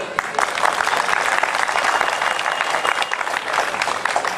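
An audience at a Nationalist Congress Party political speech in Nagpur breaks into loud, steady applause, a thick wash of many hands clapping close by without pause.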